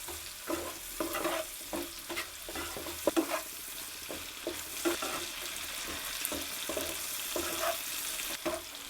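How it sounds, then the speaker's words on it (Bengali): Chicken pieces fry in a pan with black pepper and salt while a spatula stirs them, soft sizzling broken by repeated scraping knocks at an uneven rhythm, close up and with no talk. "দিয়ে ভালো করে নাড়াঘাটা করে দেবেন একটু"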